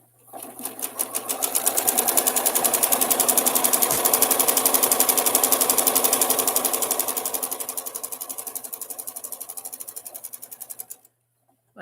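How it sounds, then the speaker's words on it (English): Sewing machine stitching along the longer sides of a quilt fabric piece, a steady rapid mechanical whir running loud and continuous for about ten seconds before stopping abruptly. "now I'm sewing the longer ones on"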